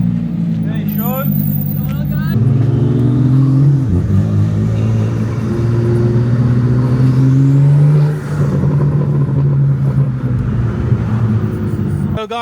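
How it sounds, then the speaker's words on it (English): Deep, throaty Lamborghini V10 engine, likely a Huracan, drones steadily, with pitch rising and falling as it revs. The engine sounds close, and people talk over it. "Big V10, bro. Sounds like a Huracan."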